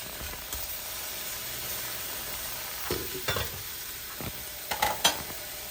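Mung beans with bitter gourd cooking in a pan, a quiet steady sizzle with a few louder stirring scrapes and spatters near the end.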